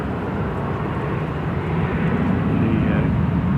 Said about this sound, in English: France A220 taxiing out now.